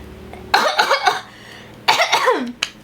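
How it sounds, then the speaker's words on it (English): Two bursts of harsh, throaty coughing close to the mic, the first a rapid cluster of hacks, the second shorter, with a small catch at the end. "I feel like I need to cough up"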